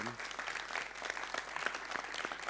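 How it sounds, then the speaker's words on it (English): An audience at a festival keynote session applauds, with dense and steady clapping throughout that sounds close and full. "it's just a big round of applause for such a wonderful exploration"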